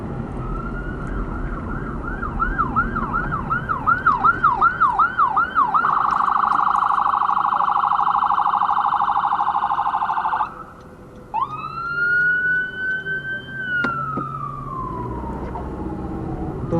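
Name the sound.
ambulance siren passing on the road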